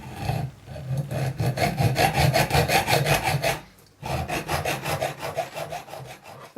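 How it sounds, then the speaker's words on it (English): A hacksaw cuts through metal tubing being made into a spacer for neck-sizing cases, steady back-and-forth rasping strokes in a close, even rhythm with one brief pause before the strokes resume. "put it on the tubing, get a hacksaw"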